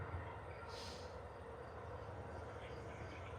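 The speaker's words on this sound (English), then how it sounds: "The train's crossing." A steady low rumble of a passing train, continuous and fairly close, with a brief hiss of higher noise partway through.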